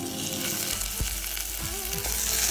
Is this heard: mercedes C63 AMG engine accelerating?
no